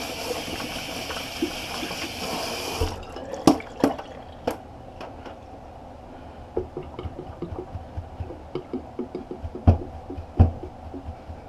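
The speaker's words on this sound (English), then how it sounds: "I'm just rinsing out this brush" A Craving Shaving brush is rinsed under running water, a steady stream at first, then irregular drips and splashes as it is worked, close and quiet.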